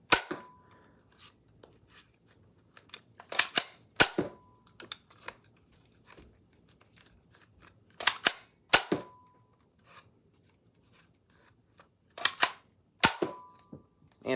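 Nerf single-shot pistols firing Adventure Force waffle head darts, a series of sharp, close snapping shots with the mechanical click and rattle of priming and reloading between them, several shots spaced irregularly over the stretch.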